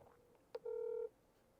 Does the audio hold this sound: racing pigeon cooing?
no